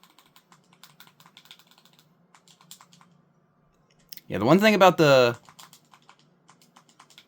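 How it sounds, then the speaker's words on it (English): Clicky, loud game controller buttons pressed during Pokémon gameplay make rapid, light clicks scattered throughout, briefly interrupted by someone speaking in the middle. "this controller is the buttons are kind of clicky and loud, but they're very comfortable, very satisfying to push."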